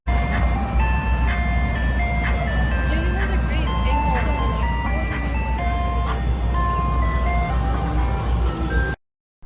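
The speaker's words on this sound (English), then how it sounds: "all along the National Mall there are these ice cream trucks" An ice cream truck on the National Mall plays a bright, repeating chime melody over a constant low rumble of traffic, with a voice talking over it before the sound cuts off near the end.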